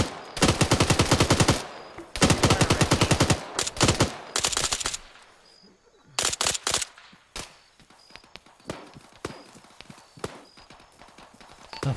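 Bursts of rapid automatic machine gun fire in the video game Arma, loud and close, with rattling volleys in the first half and sparser single shots and short bursts later.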